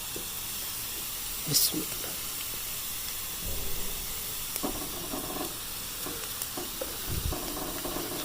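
Ginger garlic paste hits hot oil with browning onions in a pan, giving a steady close sizzle and hiss with brief stirring clatters, while a voice speaks briefly over it.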